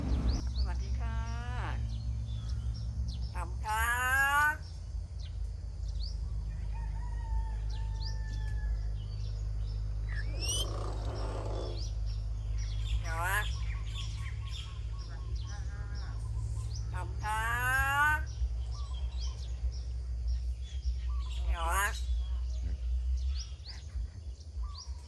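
A common hill myna gives scattered sharp chirps and whistled calls over a steady low hum of background noise, moderately near, with brief pauses between calls.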